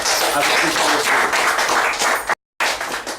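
Dense, loud clapping from a crowd at a 2013 CSEC graduation ceremony, a sustained roar of many hands that cuts out briefly near the end before resuming.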